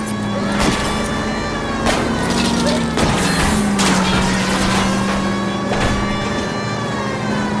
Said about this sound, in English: Try to shoot out his tires.